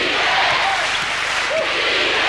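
A basketball arena crowd at a 1993 NBL game roaring and chanting for defence, a dense, loud wash of many voices with a commentator talking over it.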